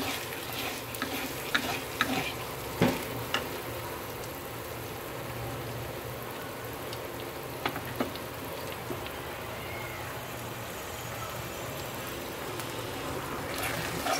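Potato halva frying in ghee in a pan, stirred steadily, with soft scraping strokes and occasional clinks over a constant low sizzle throughout.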